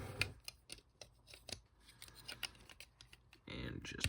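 Plastic parts of a Transformers Siege leader class Shockwave toy being handled and snapped together, a series of sharp close clicks and rattles in uneven rhythm, with a brief burst of rustling near the end.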